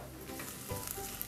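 Garlic sizzling softly in a pan as the base for a parmesan risotto, a brief, fairly quiet crackle and hiss heard close up.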